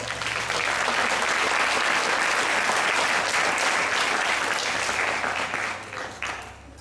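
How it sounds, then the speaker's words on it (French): Sustained applause from a live audience at a paranormal-themed stage show fills nearly seven seconds, steady and dense before tapering off at the end. "On peut l'applaudir bien fort."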